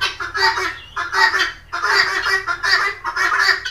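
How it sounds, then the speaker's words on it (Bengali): A hen squawks loudly and repeatedly on a poultry farm, harsh rhythmic calls in quick bursts close to the microphone, with no talk. "এই যে মুরগিটা চিল্লাই যাচ্ছে।"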